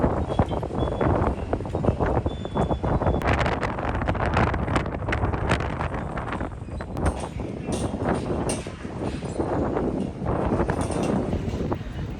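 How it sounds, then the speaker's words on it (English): Strong, hot wind blows continuously, buffeting the microphone with a loud, rough roar that rises and falls but never stops. "It literally feels like it's a tropical storm. It's hot and windy and just a lot."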